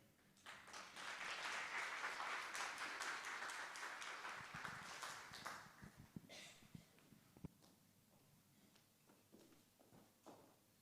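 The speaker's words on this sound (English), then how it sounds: "One more round of applause, ladies and gentlemen," A conference audience applauds after a talk, a full round of clapping that swells in the first seconds, then thins to scattered claps and taps before fading out.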